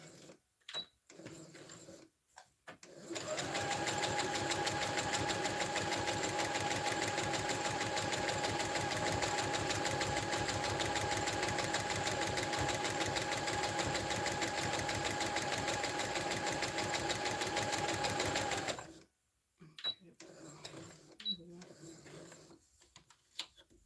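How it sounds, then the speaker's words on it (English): A serger (overlock sewing machine) runs steadily for about fifteen seconds, a loud, even mechanical whir with a fast stitching buzz, starting and stopping abruptly, with brief talk before and after. "I'm gonna have to put this on my serger"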